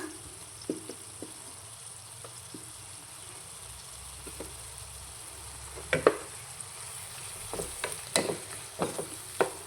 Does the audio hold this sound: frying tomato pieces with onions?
yes